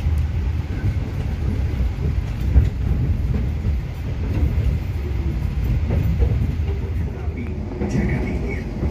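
Jaka Tingkir economy passenger train bound for Solo Balapan station, heard from inside a carriage as a steady, loud rumble of wheels on rails that continues without a break.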